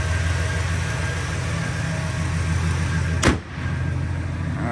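The 350 V8 engine of a 1972 Oldsmobile Cutlass Supreme 442 convertible idles nearby with a low, even rumble, broken once by a brief sharp thump.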